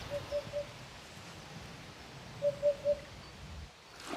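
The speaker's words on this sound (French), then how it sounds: "Là on entend la huppe, ça vaut n'importe quel oiseau tropical." A hoopoe calls in the Marais poitevin wetland: two bursts of three soft, hollow, evenly spaced hoots, separated by a quiet pause, over a faint outdoor background.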